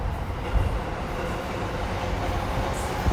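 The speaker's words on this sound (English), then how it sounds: "Here goes the train." A train rumbles past close by in Tokyo, a steady, loud, broadband roar with a few heavier thumps, continuous for the whole stretch with no voices.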